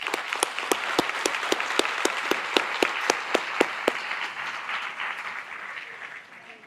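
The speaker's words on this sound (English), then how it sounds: "Please join me in a round of applause." A graduation ceremony audience breaks into a round of applause, broad crowd clapping with one near, loud, evenly spaced clapper standing out for the first four seconds before the applause gradually thins and fades.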